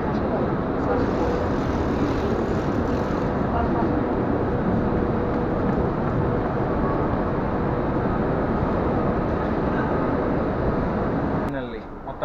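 Steady, loud rumble inside a high-speed train traveling from Guangzhou toward Macau, a dense, unbroken roar that holds evenly for the whole stretch and shifts briefly near the end.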